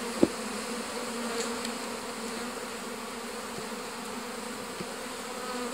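Honey bees hum in a dense, steady buzz at an open hive box, fairly quiet and continuous, with a faint click near the start and no voices.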